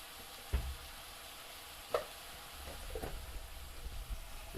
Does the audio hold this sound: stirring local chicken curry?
yes